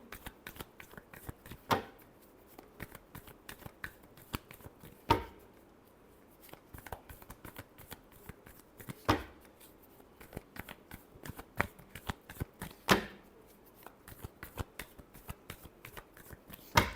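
Tarot cards are shuffled by hand in a quiet room, giving rapid, crisp riffling clicks in uneven bursts, with a few sharper slaps every few seconds, close and fairly soft throughout.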